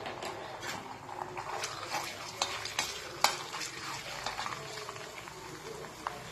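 Whole cumin seeds and ginger garlic paste frying in hot oil, a steady crackling sizzle with scattered sharp pops and stirring clinks throughout.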